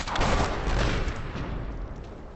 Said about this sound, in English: we're going to take a second shot at the gas cylinder